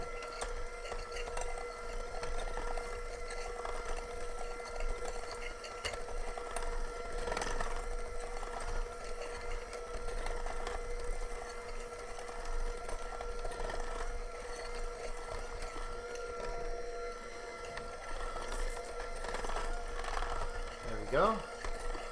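An electric mixer blends edible cookie dough, Halloween version, after a touch of milk is added: a steady, fairly loud motor whir with a high tonal hum runs unbroken for the whole stretch, with faint background noise.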